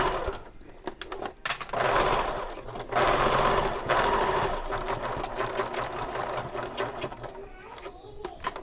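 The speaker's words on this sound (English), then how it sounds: "I'm going to top stitch over these" A sewing machine top stitches over the pleats of a fabric bag, its needle running in a close, steady rapid patter with short pauses and restarts, without any talk over it.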